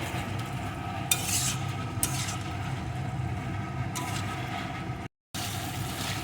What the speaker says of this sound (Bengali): চিনিটা দিয়েও এইভাবে আমি এক মিনিট মতন নাড়িয়ে রান্না করে নিয়েছি